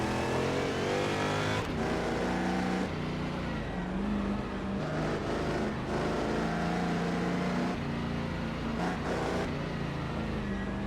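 A Chaparral 2D race car takes the corners on a road course, its engine roaring loud and close, dipping and rising as it shifts and revs through the bends.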